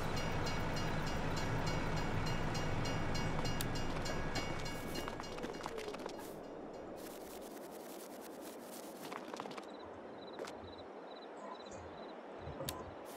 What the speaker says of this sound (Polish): Pewnie pociąg przejeżdża.